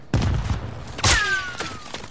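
Gunfire in a Call of Duty Warzone match, two loud sharp bursts about a second apart, the second trailing a ringing whine, then scattered fainter shots.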